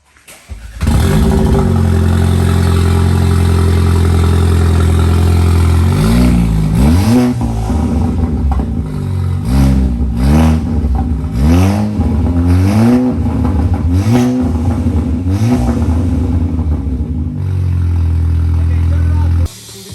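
A 2017 Audi B9 A4 with a high-flow cat, downpipe and no mufflers starts and idles loud and raspy, then fires off a run of sharp repeated revs before settling back to a heavy idle and cutting off.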